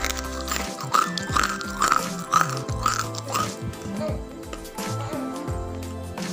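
Crunchy bites into crispy fried mushrooms, a string of sharp crackling crunches repeating every half second or so, set against steady background music.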